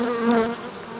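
Honeybees buzz near the entrance hole of a hive fitted with an anti-robbing device, a steady close drone with a wavering pitch that fades slightly toward the end.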